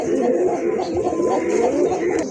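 Caged fancy pigeons, including a large red Barhuma hen, coo softly in low rolling notes beneath steady nearby talking.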